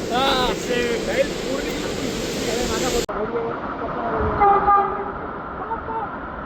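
A Vande Bharat train rushing past near the Ranpat Ukshi waterfall, a loud steady roar of rolling cars over the constant rush of falling water and heavy rain, with an abrupt shift midway and people's voices faint underneath.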